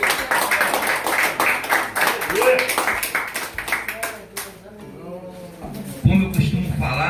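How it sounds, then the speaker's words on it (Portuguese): A church congregation breaks into applause during a worship service, a dense run of clapping that builds and then tapers off, heard under a preacher's voice and other talk. "Uma salva de palmas para a palavra de Deus, amém?"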